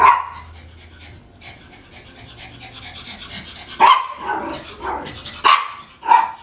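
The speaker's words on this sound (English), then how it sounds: "he's barking at midnight now" A dog pants heavily and close by, then lets out several loud, sharp barks in quick bursts.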